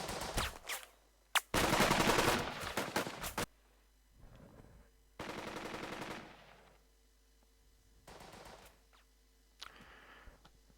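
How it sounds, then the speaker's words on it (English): A machine gun squad firing in a tactical video game, loud sustained bursts of rapid automatic fire alternating with short gaps and single shots, clear and up close with no talk. "So you could fire the machine gun again"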